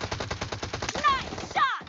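Rapid automatic gunfire from PUBG Mobile crackles in a fast, steady burst of shots, loud and close, followed by a couple of sharper game effect sounds near the end.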